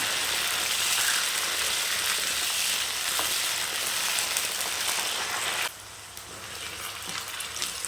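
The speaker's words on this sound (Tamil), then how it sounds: "இந்த எண்ணெயிலே நல்லா வதங்கி இருக்கும். நல்லா இந்த எண்ணெயிலே வேகணும், எடுத்துடக்கூடாது." Brinjal fries in oil for oil eggplant kulambu, making a steady, loud, rain-like sizzle that drops suddenly to a quieter hiss near the end.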